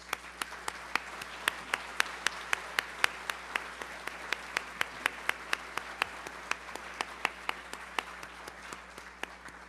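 Audience applause for board members at a charity breakfast event, steady clapping from a room of people sustained for nearly ten seconds at an even level.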